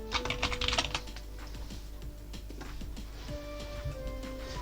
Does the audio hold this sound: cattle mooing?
no